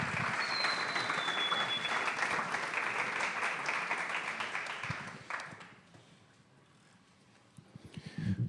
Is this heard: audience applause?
yes